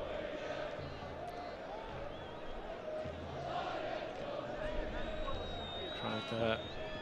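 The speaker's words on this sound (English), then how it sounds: "Crowd there a little bit tensive in places." A football stadium crowd at an Asian club match murmurs with tense, restless noise, a steady distant hum with occasional swells and shouts, heard under a commentator's talk.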